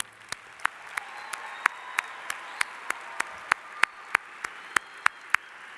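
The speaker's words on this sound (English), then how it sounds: "Please give our Champs Program graduates a round of applause." Sparse, slow clapping greets Champs Program graduates at a university spring commencement ceremony: a dozen or so distinct, evenly spaced claps from a small number of hands, fairly quiet with faint background room noise.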